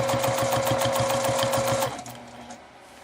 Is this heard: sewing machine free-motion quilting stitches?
yes